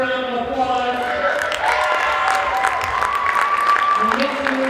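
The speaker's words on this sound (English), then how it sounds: "Please give her a round of applause." Applause and crowd noise fill a school gym during a high school girls' basketball game, a steady wash of clapping with cheering voices and a sustained tone running underneath.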